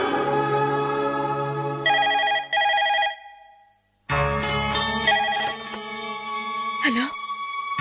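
A telephone rings in a Telugu film drama scene: two short trilling bursts of the bell, fairly loud, followed by a swell of background music and voices.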